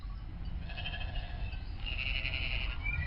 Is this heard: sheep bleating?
yes